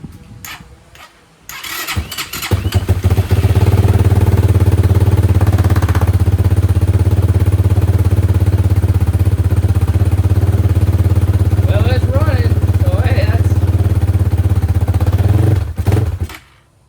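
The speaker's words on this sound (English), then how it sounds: "Went ahead and pulled the choke. See if it lights off. Maybe give it a little throttle while I'm doing it." A 2025 X-Pro Templar 250 motorcycle with a big bore kit fitted, cranking with the choke pulled, quickly fires up and then settles into a loud, steady idle close by before shutting off at the end.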